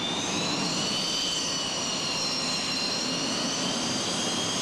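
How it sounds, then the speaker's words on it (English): A helicopter drones in the background at a work site where a basket is being directed, a steady, fairly distant whine and rumble that holds evenly for several seconds with no talk. "Helicopter in the background,"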